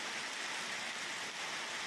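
Heavy rain falling over Chennai suburbs, a dense, steady roar of downpour that stays loud and unbroken throughout, with no voices.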